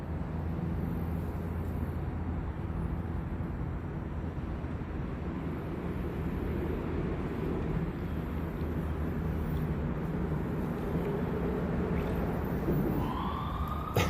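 Distant sirens wail over a dense, steady roar of outdoor noise heard from a fishing boat, with a rising tone near the end.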